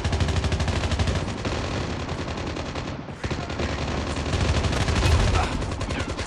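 Rapid automatic gunfire from a Call of Duty deathmatch mod rattles nearly nonstop in dense, loud bursts, pausing briefly near the middle, with faint voices underneath.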